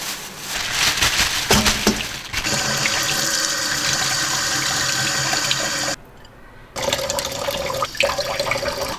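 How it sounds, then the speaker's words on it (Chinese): Tap water running into a sink while fish is washed, a continuous splashing stream that stops briefly then resumes with clattering. "我们先洗鱼哈。"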